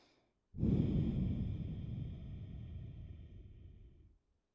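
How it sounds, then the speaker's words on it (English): A single long, deep breath during a yoga session, close and steady, rising sharply and then tapering off over about three and a half seconds in a quiet room. "Taking some deep breaths."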